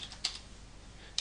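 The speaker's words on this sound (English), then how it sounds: "type in" Keystrokes on a computer keyboard while entering an add-on name in the Firefox browser, a few sparse, quiet taps with a faint click near the end, alone against low room noise.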